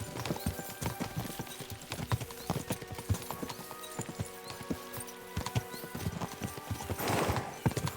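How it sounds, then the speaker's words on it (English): Rapid, irregular hoofbeats of several horses galloping in the video game Kingdom Come: Deliverance II, with clattering steps throughout and a brief rush of noise toward the end. "We should spur the horses on."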